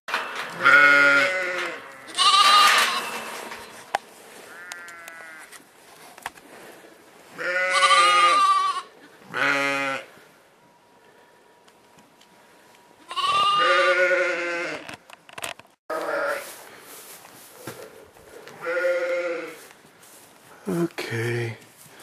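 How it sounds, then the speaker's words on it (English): Newborn lambs in a barn bleat repeatedly, loud and close, with several separate calls spread across the stretch and quiet gaps between them. "Here's all the lambs that were born the other day."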